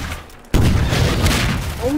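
A rocket launcher explosion in Half-Life: Source hits as a sudden loud boom and then a rumbling, crackling blast tail, with voices talking around it.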